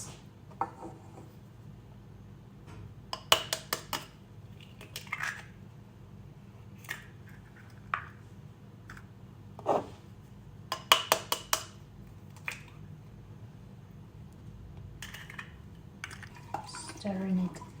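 Cake batter with eggs being stirred in a bowl, heard as scattered scraping and clinking knocks of a utensil against the bowl, separated by quiet gaps.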